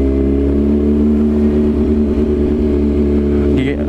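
A 2024 Kawasaki ZX6R motorcycle rolling slowly in first gear, its engine humming steadily and close at low revs without revving up, with a rider talking over it.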